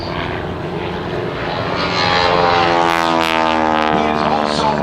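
A propeller-driven aerobatic airplane flying a reverse Cuban 8 at an airshow gives a loud, droning engine roar that swells and shifts in pitch as it passes, with a voice talking over it.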